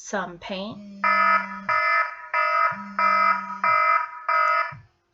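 A personal alarm beeps in six evenly spaced loud electronic bursts, each about half a second long, after someone speaks briefly at the start.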